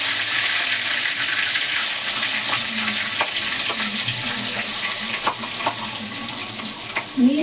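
Coconut, cashew, onion and tomato masala paste with shahjeera, bay leaf and curry leaves sizzles loudly in a pan after water hits it for chicken sherva, a steady crackling hiss with occasional stirring scrapes.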